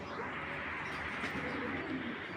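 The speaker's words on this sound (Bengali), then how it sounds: "কবুতরগুলো আগে দেখাবো ব্যালেন্স দেখবেন পাখা দেখবেন" Racing pigeons from a breeding loft coo softly and steadily, faint and close, with no talking.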